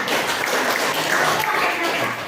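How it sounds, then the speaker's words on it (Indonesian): Students in a classroom burst into a short round of clapping, dense and fairly close throughout, with voices mingling in the noise. "Kita beri aplaus dulu."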